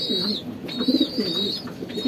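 An Art Angel pigeon coos in low, soft, repeated burbling phrases, close by and fairly quiet, with a thin steady high tone running behind it.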